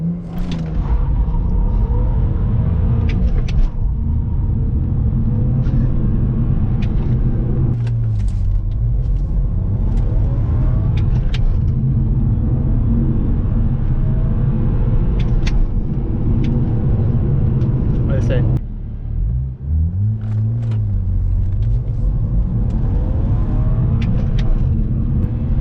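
A tuned BMW 335i with a Cobb Stage 1 setup pulls hard from a standstill, its loud engine rumble rising and falling through gear changes with a brief dip near the end before climbing again.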